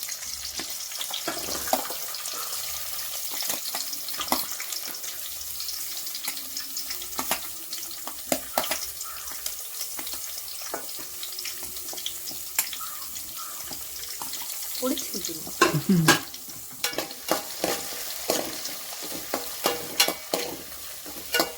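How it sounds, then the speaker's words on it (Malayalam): Shallots and garlic sauté in a pan for a Kerala-style okra curry, a steady close sizzle broken by repeated scraping and stirring clatters. "ചെറുള്ളി വെളിച്ചുള്ളി എല്ലാം കൂടി ഇട്ട് കൊടുക്കാം പിന്നെ ഇതൊരു ഗോൾഡൻ കളറായി വരണം അതുവരെ വാട്ടണം"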